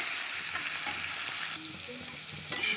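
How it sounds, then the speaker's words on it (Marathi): Lengthwise-sliced onion sautés in oil with mustard seeds, cumin and asafoetida, producing a fairly soft, steady sizzle with occasional light stirring knocks. "आता कांदा टाकायचा. कांदा मस्त परतून घ्यायचा."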